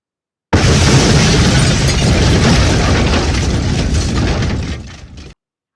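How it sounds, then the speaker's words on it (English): A chemical reaction explodes in one loud, sustained blast that roars for about five seconds before cutting off abruptly, with no voices over it. "It blew up. You got an explosion."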